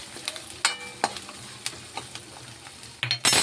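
Vegetables for puri bhaji stirred and frying in a pan: intermittent scraping clacks of a spoon against metal over a faint sizzle, with a louder clatter at the end.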